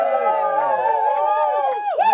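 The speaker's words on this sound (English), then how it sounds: "Let me hear you cheer." A live festival audience cheers and whoops on cue at a talk-show-style event, a continuous loud crowd roar with voices rising and falling throughout.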